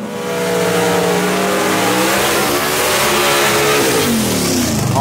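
Gasser drag race car launching and accelerating hard away down a drag strip, a loud continuous engine roar climbing through the gears, with sweeping pitch changes as it pulls off.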